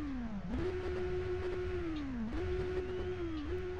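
A Kawasaki Z1000 motorcycle in the racing game RIDE, with dual exhaust, its engine roaring in a steady high drone that dips and climbs back twice as the rider shifts, close and continuous with no talking.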